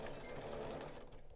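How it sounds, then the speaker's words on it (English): A Janome sewing machine stitches raglan sleeve seams at a half-inch allowance, a soft continuous whirring hum held steady and fairly quiet throughout the brief stretch. "I'm going to sew all of these raglan seams at a 1/2 inch seam allowance"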